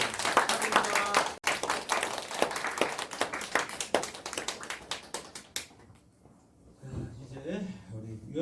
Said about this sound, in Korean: 큰 박수로 축복드립니다